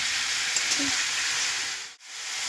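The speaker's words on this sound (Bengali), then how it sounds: "মাংসটা এবার আমি হালকা করে ভেজে নেব" Chicken pieces sizzling and frying in a pan, with a steady loud hiss, a brief stir and a short dip where the sound cuts out before resuming.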